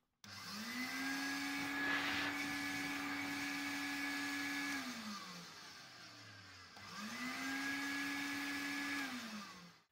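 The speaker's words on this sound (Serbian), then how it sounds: "Usisivač lepo radi" A Sloboda Progres Minor De Luxe vacuum cleaner motor runs up to a steady high whine, cuts off and winds down, then starts again for a second run, loud and close with no voices.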